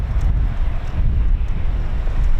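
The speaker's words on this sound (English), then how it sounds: "It's windy, it's raining" Strong gusts batter the microphone on a rainy, windy day at an RAF airbase, a loud, continuous low roar with no voices.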